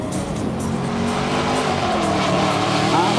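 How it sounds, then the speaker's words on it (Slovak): A BMW E30 with a V8 engine pulls away at a drift event in Presov, its loud engine roaring steadily and rising in pitch as it accelerates, heard close and continuous. "ktorý je pripravený a už vyrazil BMW E30 V8."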